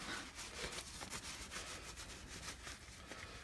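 A blue shop towel rubs grease off a VW Beetle front wheel bearing part, giving soft, close scuffing and wiping strokes, quiet and continuous.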